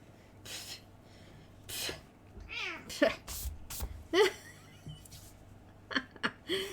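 A cat meows several times up close, short vocal calls scattered across the clip with some soft rustling and breathing in between.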